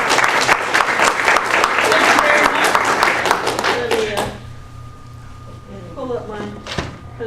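An audience at a university library event claps to welcome a speaker, steady dense applause that fades out after about four seconds, followed by quieter room noise and a voice talking.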